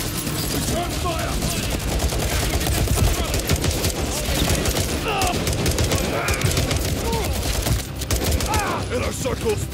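Dense automatic gunfire in Call of Duty: Modern Warfare 3 rattles continuously in a stadium firefight, loud and close with overlapping bursts, while voices shout beneath the shooting.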